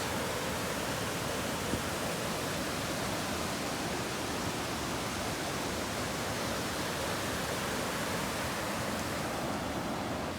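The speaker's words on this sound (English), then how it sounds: "Waterfalls." A steady, broad rush of falling water, continuous and even throughout, like a waterfall heard from a short distance.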